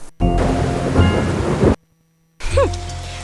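Rain and thunder from the ClueFinders 5th Grade Adventures video game. A loud rumbling thunderclap with hissing rain cuts off to silence, then the storm sound resumes with a short rising and falling tonal effect.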